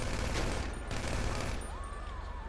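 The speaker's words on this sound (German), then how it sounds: "Wir schießen da jetzt." Heavy gunfire rattles through a casino mission in the video game GTA V Online, a dense, continuous burst of rapid shots that stays loud and close for the whole stretch.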